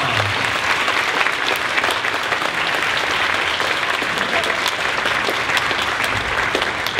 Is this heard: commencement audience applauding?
yes